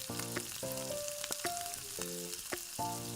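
Slices of elephant foot yam sizzle in frying oil, a quiet steady hiss beneath a melodic tune made of short notes and a few sharp clicks.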